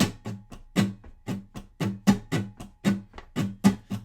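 Fast rhythmic acoustic guitar strumming in a down-up brush pattern, crisp percussive strokes in a steady driving rhythm, close and clear with no talking.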